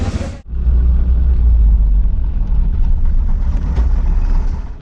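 An auto rickshaw ride in Konkan, a loud continuous low rumble of the engine and road from inside the vehicle, starting abruptly after a brief break and holding steady without talk.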